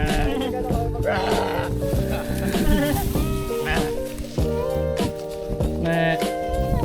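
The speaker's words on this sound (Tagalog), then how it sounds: "Tupa ba yan o goat?" Sheep or goats bleat repeatedly and loudly nearby, several wavering calls overlapping one another while people talk among the animals.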